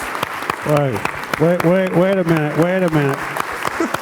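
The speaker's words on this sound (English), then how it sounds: "let's give them all a standing ovation and a round of applause." Steady clapping from a standing audience at a town hall meeting continues throughout, with a voice calling out loudly over the applause.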